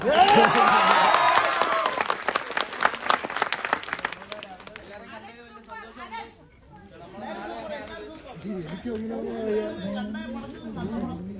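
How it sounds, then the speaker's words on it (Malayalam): Theater audience applauding after a screening of the Malayalam film Vazha 2: a loud burst of clapping and crowd noise for about four seconds, then people talking over a lingering murmur. "ഒരു കൈയടി കൊടുക്കാം."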